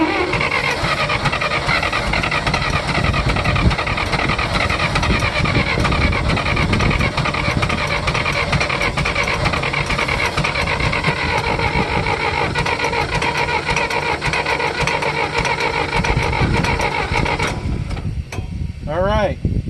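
A John Deere engine on a cold start runs steadily and loudly throughout, with a continuous mechanical rumble and rattle that cuts off sharply near the end.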